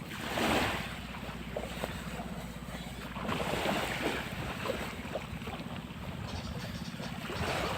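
Continuous wash of sea surf rolling onto a fine-sand beach, with steady wind rumbling against the microphone and no voices.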